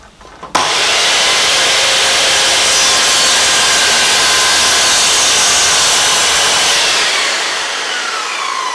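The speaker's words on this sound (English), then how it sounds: "You can do this on a miter saw by putting a piece of MDF underneath and then adding tape to the top" Miter saw slicing through tape-covered timber laid on an MDF backer: a sharp start, then a loud, steady high-pitched whine and rasp of the blade in wood, trailing off as the motor winds down.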